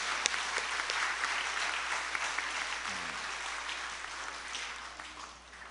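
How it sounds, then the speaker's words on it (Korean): A church congregation claps steadily in applause of thanks and praise during a service, a continuous wash of many hands, moderately distant and gradually tapering off. "우리 그런 의미에서 하나님께 감사와 영광의 박수를 올려드리겠습니다"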